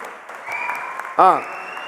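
An audience at a speech event claps steadily, a dense patter of applause with a short, rising whoop of a cheer cutting through near the end.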